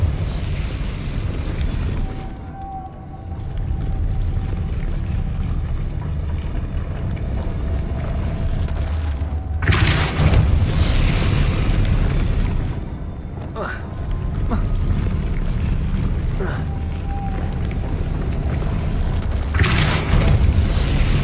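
Depulso spell blasts in Hogwarts Legacy land as deep, booming bursts at intervals of a few seconds over a constant rumbling game background, with someone talking at times.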